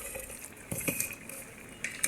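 Fish being hand-mixed with spices and mustard oil for barbecue, giving soft wet squelches and a few clinks of a bowl or pot, fairly quiet and close, with no talk.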